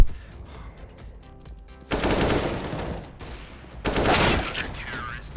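Mac 10 submachine gun fire in a video game comes as two loud rapid bursts of a couple of seconds each, separated by quieter game ambience.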